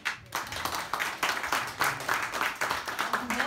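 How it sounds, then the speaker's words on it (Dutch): An audience gives warm applause at a community event in Breda, with steady clapping from many hands and fairly even rhythmic swells throughout, moderately close and without speech. "een warm applaus voor jullie"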